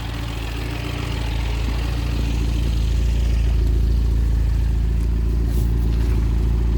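A cold 1.6-litre MINI Hatch John Cooper Works GP from 2013 with 96k miles idles steadily at close range, a deep constant low rumble with a faint regular pulse, unbroken and without talking.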